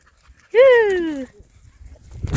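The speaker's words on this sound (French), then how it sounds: "Les petits toutous" A small dog greets a hiker on a muddy Scottish trail with a single loud, drawn-out whine that slides downward for under a second, close by and clear in the open air.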